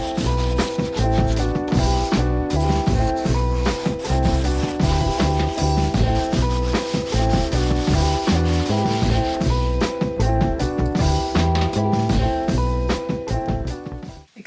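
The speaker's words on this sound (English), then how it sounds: "so I'm gonna get busy sanding." Kitchen cabinet parts are sanded in a continuous rough rubbing scrub, loud and close, with rhythmic back-and-forth strokes and no talk.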